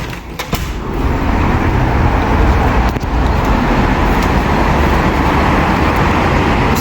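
Loud, continuous street traffic outside an apartment above a metro station in Tbilisi, a dense roar of passing cars and buses close by, with a few sharp clicks near the start.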